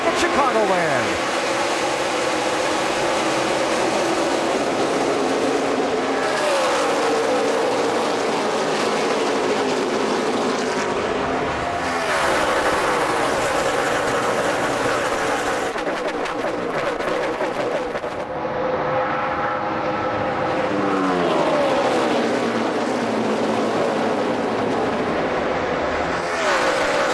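NASCAR Sprint Cup race cars roar off at the start of the 400-mile race at Chicagoland Speedway, a loud, dense engine roar with repeated rising and falling pass-bys under continuous crowd and broadcast talk.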